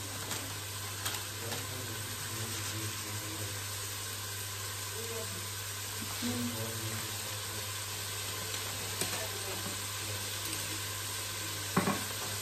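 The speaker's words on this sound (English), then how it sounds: "We're gonna go in with some cumin seeds." Cumin seeds sizzle in a hot pan, a faint steady crackling hiss over a constant low electrical hum, with a brief clatter near the end.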